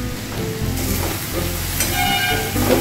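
Shredded cabbage fries in a pan with sugar and salt, a steady broad sizzle with faint scraping as it is stirred, close and continuous with no talk.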